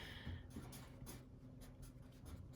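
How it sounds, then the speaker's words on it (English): Pen or pencil writing out a wave equation, a faint, steady scratching with short strokes and brief lifts, close and quiet with no talk over it. "So let's just write it down."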